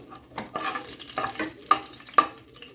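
Chopped green chili pieces drop into hot oil for an Andhra-style egg and potato curry, sizzling and crackling softly with a few sharper pops, close by and without talk.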